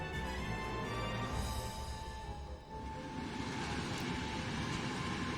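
Steady rumbling train in a Final Fantasy XIV Endwalker game trailer, a continuous loud mechanical roll and hum with a brief dip midway, no talk.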